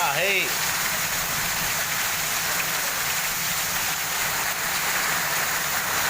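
Continuous unseasonal rain in Osmanabad (Dharashiv) district hisses steadily in the background, with a brief voice-like sound at the very start before the even downpour continues.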